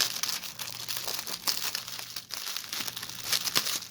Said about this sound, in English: Nice plastic bag. It's not ripped or anything.